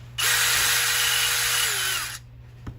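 A power drill drives a screw into a piece during assembly of a bolt action rifle build, one loud steady whir of about two seconds that winds down with a small click after, close by and with no talking.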